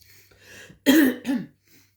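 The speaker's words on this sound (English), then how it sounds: "So if I'm coughing, it's not me throat chakra. It's this horrible cold." A single harsh cough burst from a person with a bad cold, close and fairly loud, followed by a shorter second cough, with quiet murmuring before it.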